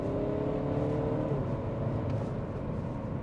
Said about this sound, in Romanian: Hai să încep un diesel.